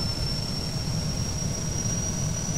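A propeller aircraft engine spins up after fuel is applied, a steady, dense roar with a high whine running through it, close and continuous.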